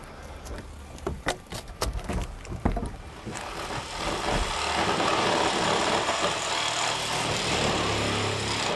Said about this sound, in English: Using a reciprocating saw, the crew began cutting the roof into manageable sections for removal.